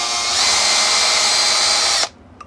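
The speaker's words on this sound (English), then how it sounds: "the drill driver is probably one of the most used tools that I've used in my history of service" Cordless drill driver running steadily at high speed, a loud whining motor held for about two seconds before stopping abruptly, followed by a faint click.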